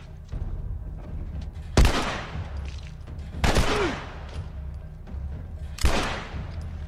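Three loud gunshots go off in The Last of Us, spaced about two seconds apart. Each is a sharp blast with a booming tail, heard over a low game ambience.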